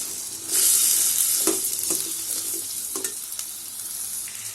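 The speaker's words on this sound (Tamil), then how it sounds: "வெங்காயமும் தக்காளியும் சேர்த்து வதக்கிக்கிங்க. ஆயில் கொஞ்சம் விட்டு நல்லா வதக்கிக்கிங்க." Onions and tomatoes sauté in oil for a fish curry, a loud hissing sizzle swelling near the start and carrying on, with a few distinct stirring scrapes and clicks, no speech.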